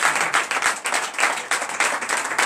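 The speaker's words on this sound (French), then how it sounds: "donnez de vives acclamations" A church congregation applauds during a Sunday worship service, a loud, continuous wash of many clapping hands, swelling and dipping in rapid bursts with no voices on top.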